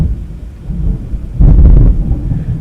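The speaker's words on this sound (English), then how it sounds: "That thunder was IRL." Real thunder outside rumbles in as a loud, low burst lasting about half a second, then fades back into a dull background rumble.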